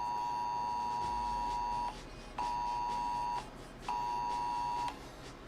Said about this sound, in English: That is the storm warning coming from my phone.